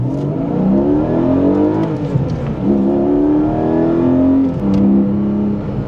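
A Porsche 718 Cayman GTS 4.0 flat-six boxer engine revs loudly, its rough growl climbing and falling in pitch over several rising pulls, heard up close with no talking.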